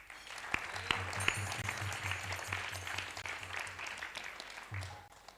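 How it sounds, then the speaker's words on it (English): An audience at a temple event gives a round of applause for the temple authorities, a faint, steady patter of clapping with a few sharper nearby claps. "So a round of applause for all the temple authorities."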